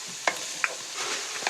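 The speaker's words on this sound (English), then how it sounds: "I'll give that a stir while I talk." Food sizzling in a pan while a spoon stirs it, a soft steady fry with three or four sharp scrapes against the pan, close and fairly quiet, no voices.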